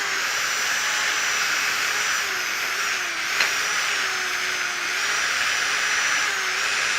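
An electric drill spins a bristle brush in reverse against a motorcycle part, a steady high whine with a gritty scrubbing hiss, close and loud, its pitch wavering slightly as pressure changes.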